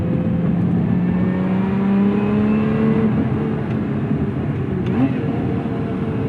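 Engine of a Lotus Emira mid-engine sports car revs steadily upward toward its 6,800 RPM limiter, a loud, continuous rising drone heard from inside the cabin before a slight dip.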